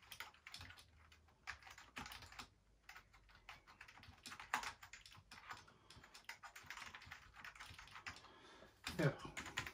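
A vintage ADB keyboard, connected to a modern computer through a Drakware ADB2USB adapter, clicks away in rapid, uneven bursts of keystrokes. The typing is quiet and close, and a voice speaks briefly.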